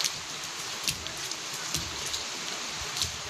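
Heavy rain pounds a concrete surface in a steady, dense hiss with scattered louder drop splashes, close and continuous without speech.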